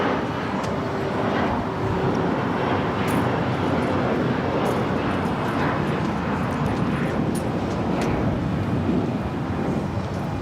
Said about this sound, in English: British Airways 282 now, rolling on 25 right, 777-300 ER, taking off to London Heathrow